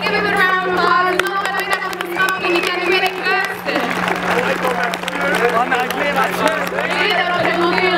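Applause for the MVP at a youth under-17 hockey tournament, a dense, steady crowd clapping that runs throughout with cheering voices and a constant electrical hum underneath.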